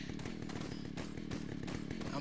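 A chainsaw-wielding enemy in Resident Evil 4, with a revving chainsaw engine droning and surging steadily at moderate volume.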